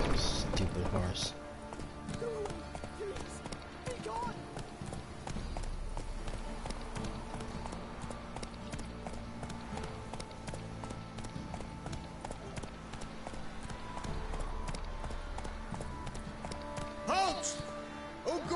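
Horse hooves clip-clop steadily through a medieval castle gateway in The Witcher 3: Wild Hunt, a continuous mid-level rhythm beneath game music and voices talking.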